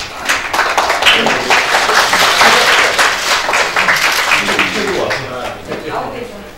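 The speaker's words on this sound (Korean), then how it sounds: "박수 부탁드립니다" Dense, steady applause fills a Korean political party event announcing new recruits, a large crowd clapping continuously and loudly for several seconds with voices mixed in.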